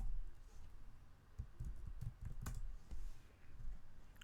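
Fingers tapping on a computer keyboard in a quiet room, a faint, uneven run of soft clicks and keystrokes with brief pauses, nobody speaking.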